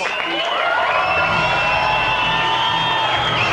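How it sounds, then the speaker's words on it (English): A big crowd at a kickboxing event at the Sydney Convention Centre cheers and applauds in a loud, sustained roar with whoops and shouts, continuous and dense for the whole stretch. "the big crowd stand and applaud the arrival of the feature attraction here from the Sydney Convention Centre"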